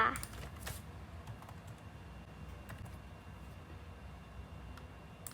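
Typing on a computer keyboard while building text layers for a wedding card design, a steady run of light, quiet key clicks with a few louder taps, heard alone at close range.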